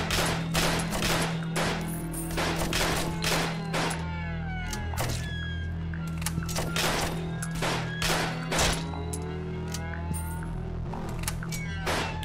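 Rapid bursts of turret gunfire in a 2D zombie survival strategy game, loud, dense cracks repeating over a steady low game hum.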